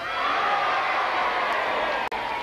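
A crowd cheers for Ross-on-Wye at the 1982 It's a Knockout contest, with a continuous mass of cheering and shouting and a brief dip near the end.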